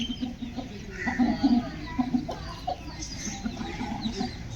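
Aseel hens and a rooster cluck in a close, busy flurry of short calls over a low background murmur.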